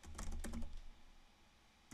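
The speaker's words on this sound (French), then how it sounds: "vous pouvez taper sur T sur votre clavier" Close, quiet taps on a computer keyboard, with a short burst of several keystrokes, a pause, then another keystroke near the end.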